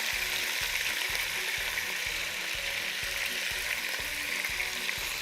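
Meat, a cut of flank steak with vegetables, sears in a hot pan with a loud, constant hiss and crackle, and a regular low clicking ticks underneath throughout.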